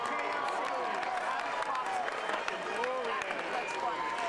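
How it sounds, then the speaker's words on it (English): Crowd applause for two boxers after a four-round bout at Twin River Casino, a dense, steady wash of clapping and cheering filling the arena throughout, with voices mixed in. "Twin River Casino, how about a round of applause for both these brave warriors?"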